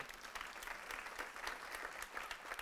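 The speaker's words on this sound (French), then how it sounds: "On va les applaudir." A church congregation claps in welcome, a quick, moderately dense patter of hands with audible individual claps, heard from a distance and fading slightly toward the end.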